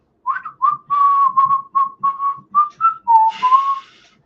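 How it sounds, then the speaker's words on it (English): A person whistles a short tune close by, about a dozen clear melodic notes in quick succession, loud and alone. "can you whistle?"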